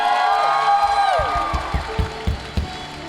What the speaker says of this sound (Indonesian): Sekali lagi tepuk tangan bagi kemuliaan Tuhan.